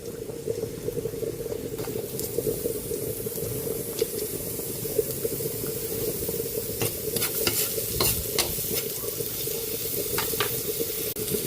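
Garlic and onion sizzling in a frying pan, a continuous crackling fry with a low hum beneath and scattered stirring clicks, growing busier toward the end, no voices.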